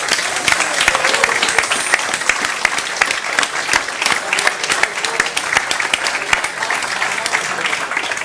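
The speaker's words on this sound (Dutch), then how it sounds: "Ik zou het heel mooi vinden als zij allebei het gepaste, warme applaus van jullie kant mogen ontvangen." Warm audience applause for two young chefs at a live culinary event, loud sustained clapping from a full room, steady and close throughout.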